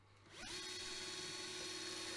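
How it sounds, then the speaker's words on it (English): A power drill bores out a rivet on the base of a Corgi Toys Aston Martin DB4 die-cast model, spinning up quickly into a steady high whine that continues alone. "first order of business is to drill out the 3 rivets that hold in the base"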